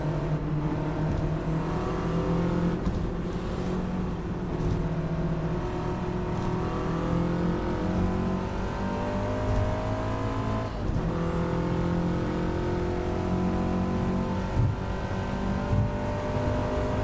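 Several Renault R5 race cars in a Gran Turismo 7 online race drone and rev together in a tight pack, engines rising and falling through gear changes, steady and loud with no talking.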